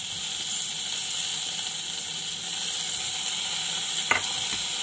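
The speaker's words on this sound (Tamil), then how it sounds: "போட்டு நல்லா வதக்குவோம்." Chopped onion and tomato sautéing in a pan for a yam curry, a steady close sizzle with a soft stir and a faint clink near the end.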